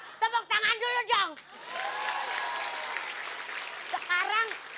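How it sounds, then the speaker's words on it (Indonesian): A classroom group claps on cue in a comedy school skit, a brief burst of scattered clapping and cheers that follows voices and fades under further talk. "Tepuk tangan dulu dong."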